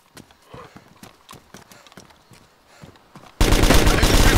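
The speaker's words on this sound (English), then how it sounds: "No, that is not me shooting at all." Gunfire in the video game DayZ, with scattered sharp shots cracking at moderate level before a sudden loud, sustained burst of rapid fire fills the final second.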